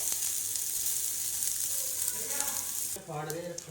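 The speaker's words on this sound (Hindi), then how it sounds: "ये देखिए अब थोड़ा सा प्याज भूनते हैं।" Sliced onions frying in a pan for an Indian-style vegetable masala pasta, a steady bright sizzle throughout, then brief stirring clatter near the end.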